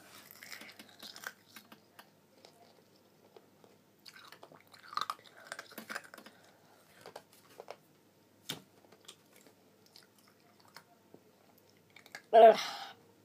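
Sour blue Fini Boom gum being chewed close up, with soft, wet, sparse clicks and smacks over near silence and one louder burst near the end.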